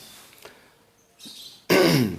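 One loud, harsh cough bursts out after a short, quieter throat-clearing sound, close to the microphone.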